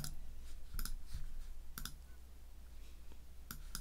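A mouse clicks the edit button during app development work, giving several sharp, close clicks at irregular intervals over a faint steady background hiss.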